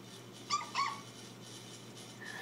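A small dog gives a few short, high-pitched whimpers and yips up close, brief squeaky bursts separated by quiet pauses.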